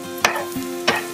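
Carrots fried in a pan for fried rice, a steady close sizzle broken by a few brief scraping stirs of a utensil against the pan.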